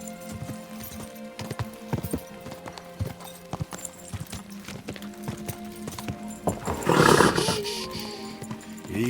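Horse hooves clip-clop steadily in the video game Kingdom Come Deliverance II, close and continuous, with game ambience and a louder burst of noise near the end.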